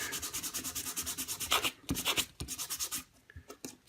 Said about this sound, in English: And we'll just sand that down real quick.